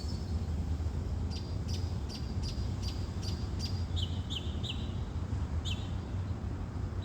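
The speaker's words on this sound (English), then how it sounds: "The natural sound of the chirping of a bird" A bird chirps in a series of short, sharp tweets, some quick and repeated, heard faintly at a distance over a steady low background rumble.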